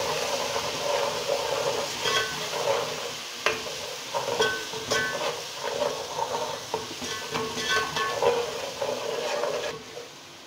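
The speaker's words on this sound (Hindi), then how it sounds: "थोड़ा सा भूनेंगे।" Ginger garlic paste frying in a pan after golden onions, a steady close sizzle with scattered stirring scrapes and clinks throughout, no talking.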